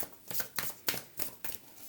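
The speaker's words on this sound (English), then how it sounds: "They're asking me to shuffle" A tarot card deck being riffle-shuffled by hand, about five crisp papery bursts in quick, even succession, close and clear with no voice.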